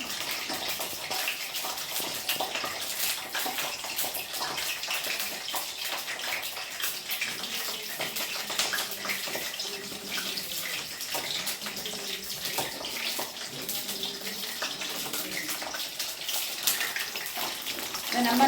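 Tap water runs steadily in a kitchen while cut eggplant and raw plantain are rinsed, a continuous close splashing stream with small irregular spatters and slight variations as the pieces move under it.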